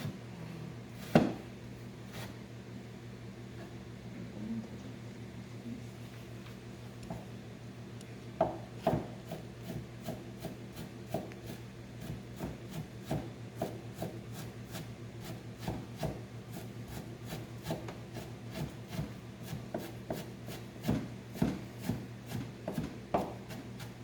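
Knife mincing meat on a wooden board for a Korean skewered beef dish, a long run of quick, light, repeated taps and scrapes, close by and fairly soft, with no talking.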